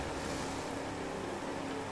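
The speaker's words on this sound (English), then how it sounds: "Lovely scenery, water splashes on the lanes." Water splashing in the racing video game The Crew 2 during a boat race: a steady, loud rush of spray and wash with a low, engine-like drone throughout.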